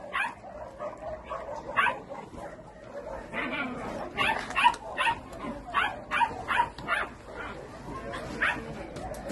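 A small female dog barks, yips and whimpers in short repeated bursts, fairly close and moderately loud, with a quiet voice occasionally in the background.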